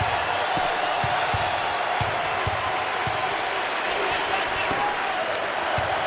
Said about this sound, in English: And the fans are going wild.